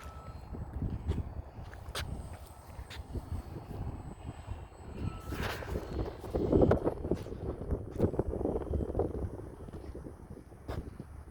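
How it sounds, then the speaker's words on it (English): Gusty wind buffets the microphone outdoors on a windy day near a flying carbon model aircraft, a continuous rumbling roar with fluctuating intensity and a few sharp knocks. "That wind is really taking it."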